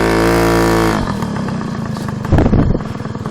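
A Puch Pinto II moped with carburetor trouble revs hard while offroading, a loud buzzing two-stroke engine note that drops after a second into rough, sputtering clatter with a sharp burst of revving near the end.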